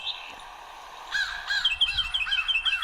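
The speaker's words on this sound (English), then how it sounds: "It is the tufted titmouse." A tufted titmouse calls repeatedly, with a series of clear, rising and falling whistled notes in a steady rhythm, fairly near and loud against quiet outdoor background.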